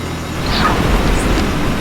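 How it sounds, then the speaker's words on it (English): Steady broadband drone of a Cessna 172R engine running with the cockpit window open in the FSX flight simulator, a loud, continuous roar with no talk over it. "Hear the actual engine a little louder."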